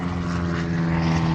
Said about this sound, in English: the plane going by.